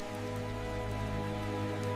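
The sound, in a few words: rain falling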